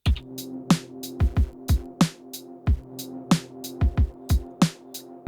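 A punchy drum loop from an Elektron Digitakt with kick and snare hits repeats in a steady trip hop groove, overlaid with a thin layer of crackly white-noise hiss.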